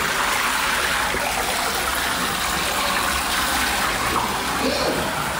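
Water running steadily from a tap, a continuous loud gushing rush that stays even and close for the whole stretch, with no voices over it.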